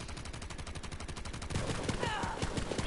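Rapid automatic gunfire in the video game Borderlands 3, dense repeated shots in a steady fast rhythm that intensify midway, with people talking over it.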